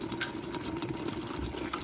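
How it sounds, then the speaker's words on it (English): Bottled water is poured into a pot of cooking okra, a short, soft, steady pouring trickle close by with a faint burbling fill and no voices. "We're gonna add a little water in it and let it cook for a minute."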